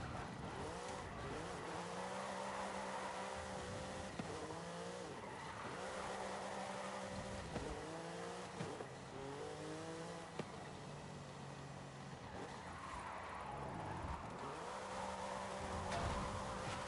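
A car drifts in the racing game Forza Horizon 5, its tires squealing in repeated sweeping slides as the engine revs rise and fall continuously.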